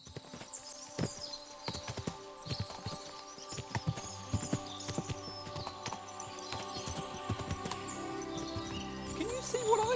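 Several horses walk on a road in the medieval video game Kingdom Come Deliverance 2, their hooves clip-clopping in steady overlapping rhythm, with insects and birds chirping in the open countryside and a rising rumble of movement toward the end.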